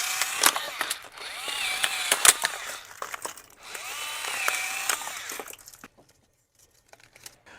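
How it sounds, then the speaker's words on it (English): A Ryobi package cutter slices open hard plastic packaging with crinkling, crackling and sharp snapping sounds in uneven bursts, close up, before the noise fades to near silence. "Impossible to open packaging. Use my Ryobi package cutter."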